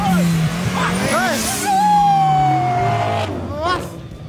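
A gasoline-powered mini car races a Camaro V8 from a standing start, with loud engine noise that falls steadily in pitch as the cars pull away. Voices shout over it.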